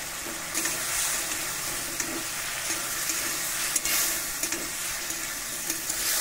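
Spices sautéing with mustard paste for a fish curry, a steady moderate sizzle with soft stirring taps and occasional clinks, no voices.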